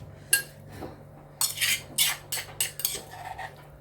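A metal utensil scoops food out of a pot while making malai chicken tikka, producing a series of scraping clinks and knocks against the pot's sides in quick irregular strokes, close and clear with no voices.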